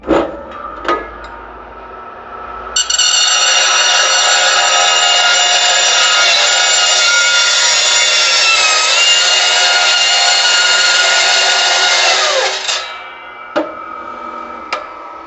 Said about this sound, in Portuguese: Como o disco está cego, é, vai dar bem mais faísca, tá? Vai fazer mais barulho, e vai deixar uma certa rebarba no tubo